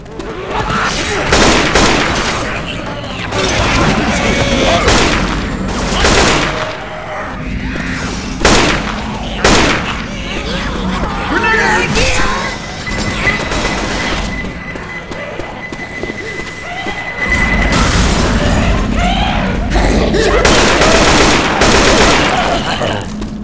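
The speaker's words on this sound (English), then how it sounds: "An assault rifle." Assault rifle gunfire in the video game Left 4 Dead, loud sustained automatic bursts mixed with heavy booms and thuds, continuing with short pauses across the whole stretch.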